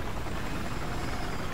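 Steady, loud rotor wash and engine drone from a helicopter in the Battlefield 4 video game, a dense continuous broadband roar with no breaks and no talking over it.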